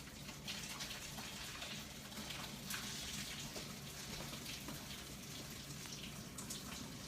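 Hot cooking liquid is poured into a sink, producing a faint, continuous splashing rush of water that stays at a steady level with no voices.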